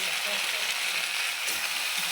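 Masala with turmeric powder, plenty of green chilies and a little chili powder sautés in a hot pan, making a steady, even sizzle throughout with no break.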